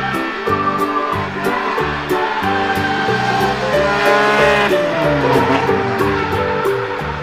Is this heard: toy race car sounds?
yes